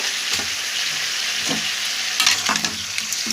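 Fish head being stirred in a hot cooking pan, a continuous close sizzle broken by several scraping spatula strokes, louder toward the end, with no voices.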